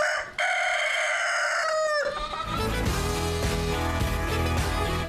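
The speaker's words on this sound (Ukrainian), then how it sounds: "Забудьте про будильник, адже його замінює спів півнів." A rooster crows at a grandmother's village home early in the morning, one long, loud, close call, followed by other farmyard sounds and music.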